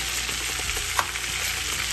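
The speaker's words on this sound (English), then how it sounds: "I'm going to go ahead and get some liquid in here" Liquid poured into a hot pot with a seared beef roast, a loud, dense sizzle and bubbling hiss with a brief sharp spike, heard up close.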